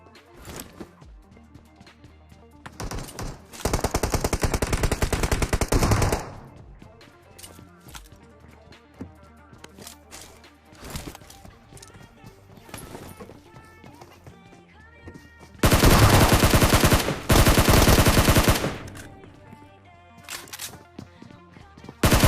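Two long bursts of rapid automatic gunfire ring out in a battle royale shooter, separated by quieter stretches of game ambience with faint taps and movement.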